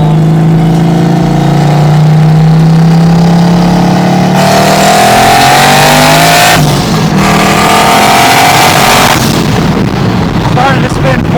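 Turbocharged LS1-swapped Mazda RX7 making around 900 horsepower with a T56 gearbox, accelerating hard through a full pull on a hot day, loud engine roar climbing in pitch with sharp gear changes, heard from inside the car.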